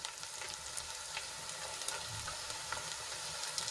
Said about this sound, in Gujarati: ટમેટા એડ કર્યા બાદ આપણે સરસ રીતે ડુંગળીમાં મિક્સ કરી લેવાના છે